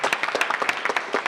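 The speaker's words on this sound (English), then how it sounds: "let's give them all a round of applause for their terrific support" A small audience at a library center unveiling gives a brief round of applause, a light scatter of distinct claps from a modest crowd, fairly close and short.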